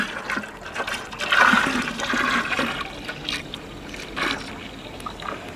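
A gram flour and water mixture being stirred for homemade organic fertilizer, giving a continuous close watery sloshing and swishing with a few stronger splashy surges.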